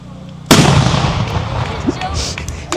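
A cannon fires once at a living history demonstration in Ohio, a sudden loud boom that rolls into a long echoing rumble, with faint voices of onlookers in the background.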